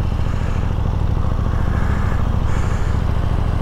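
A 2022 KTM 890 Duke GP with a parallel-twin engine idles at a light, a steady low rumble heard close over helmet wind noise with a faint rising whine near the end, no talking.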